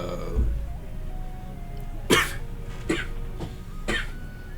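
Three or four short throat-clearing rasps spaced about a second apart, close and fairly loud, over a low steady background hum.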